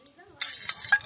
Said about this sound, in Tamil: நெய் ஊற்றுறாங்க.